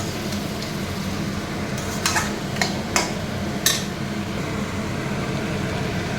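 Mutton and potatoes being sautéed for kosha in a pan: a steady low sizzle with a few sharp clinks and scrapes of a spoon against the pan scattered through.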